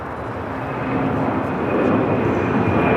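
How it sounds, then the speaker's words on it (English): A United Airlines Boeing 787-9 Dreamliner taking off at Los Angeles airport, a broad jet roar that swells steadily louder over a few seconds. "First up, United Airlines Flight 32 heading to Tokyo Narita on a 787-9 Dreamliner"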